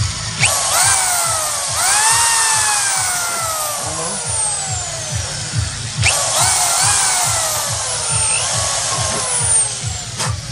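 A power drill bores into a fence. It whines in two long bursts whose pitch dips and rises as the load changes, loud and close, over low thumping knocks, with no talk.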